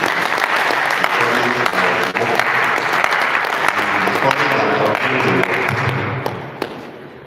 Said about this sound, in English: I want you to clap for him for handing over to me